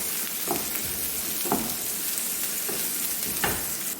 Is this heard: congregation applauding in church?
no